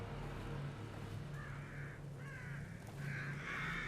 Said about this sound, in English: Crows. Carrion eaters.